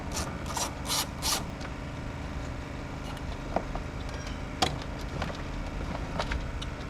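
A ratchet loosens the two 10 mm bolts on the air box of a VW ALH engine, giving faint clicking under steady background noise. A few sharper metallic ticks stand out near the start and middle.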